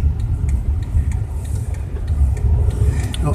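A car engine rumbles steadily at low pitch as the vehicle drives along a winter road in Cranbrook, BC, with constant road and tire noise and no talking.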